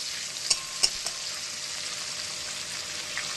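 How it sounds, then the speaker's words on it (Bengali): Tomato frying in oil in a pan, a steady bright sizzle with a couple of soft clicks from stirring near the start, continuous and close. "টমেটোটাকে একটু তেলের মধ্যে ভেজে ভেজে নেব"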